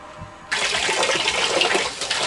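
Water bursts on and runs steadily from a DIY off-grid shower system in a box truck RV camper, a sudden loud hissing rush that continues without pause.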